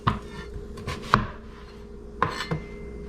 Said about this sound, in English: I'll do the onion next because it's easy